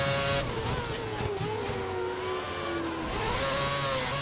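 A Formula 1 car engine in a racing video game set at Valencia 2011 screams at high revs, the pitch sliding down and back up as it shifts, loud and continuous with no talk.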